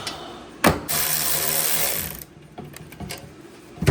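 Whirring, ratcheting power-tool bursts tighten the flange bolts on a Granatelli electric exhaust cutout for a RAM 1500, a short jolt followed by a sustained run, then fainter clicks and clatter up close.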